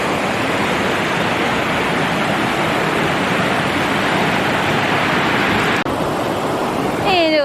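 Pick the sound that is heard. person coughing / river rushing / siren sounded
river rushing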